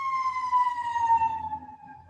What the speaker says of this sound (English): There are sirens outside my house.